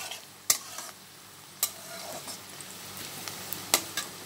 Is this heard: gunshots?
no